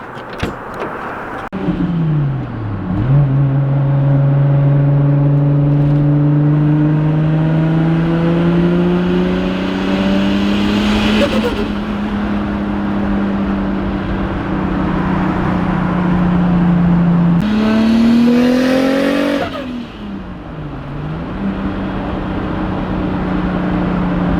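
An 800 HP turbocharged Toyota Supra engine accelerating hard, a loud sustained rising drone through the gears with sweeping pitch climbs and shift dips, heard from inside the car without talk.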